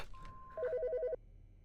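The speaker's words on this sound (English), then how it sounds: "The fucking phone." A telephone in the game Autopsy Simulator gives one short electronic warbling ring burst, clear and close against a quiet background.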